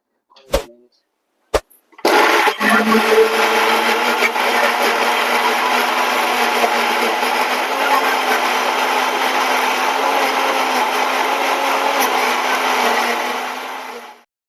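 A mixer grinder blends roasted cinnamon, cloves and cardamom into a smooth paste for mutton curry, a loud steady whirring drone running nearly nonstop after a few short starting bursts, then cutting off.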